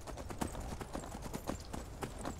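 Horse hooves clip-clop in a steady, rapid rhythm while riding through the game Skyrim, close and continuous with no talking.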